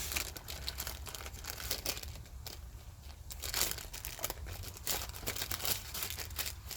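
Wax paper crinkles and tears almost continuously as it is peeled away from raw meat being prepared for a Hawaiian fatty, with busy close crackles and small rips and no talking.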